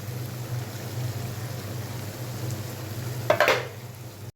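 Egg curry (dimer telani) cooking in a pan after the lid is lifted: a steady low simmering sizzle throughout, with a brief louder burst of bubbling and clatter near the end.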